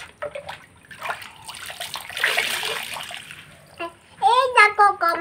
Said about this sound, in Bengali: এবার জল দাও, এবার জল ঢালো।